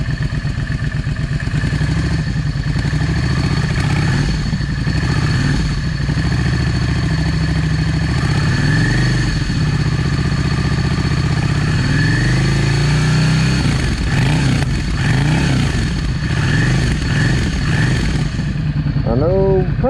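A Yamaha V Star 650 motorcycle idles close by, a loud steady engine rumble with a wavering pitch that runs throughout with no clear speech.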